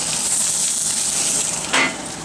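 A NY strip steak sizzles on a grill over high heat, a loud, dense, continuous hiss with a brief swell near the end.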